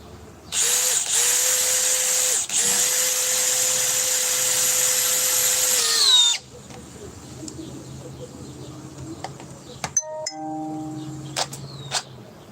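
A power drill whines loudly at high speed for several seconds with a brief stutter, then stops, leaving quieter clicks and faint sounds behind.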